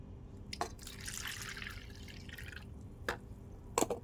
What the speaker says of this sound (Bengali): এক মিক্সি জল দিয়ে দিলাম